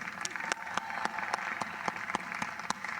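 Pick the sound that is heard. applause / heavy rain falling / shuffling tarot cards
applause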